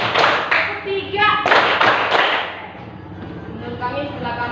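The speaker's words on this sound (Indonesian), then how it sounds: "tepuk 1, tepuk 1, tepuk 2, tepuk 3" Rhythmic hand clapping from a group of students during a classroom presentation in an Indonesian language lesson, in a counted pattern of single, single, double and triple sharp claps. The claps are loud and close, with a short pause between each group.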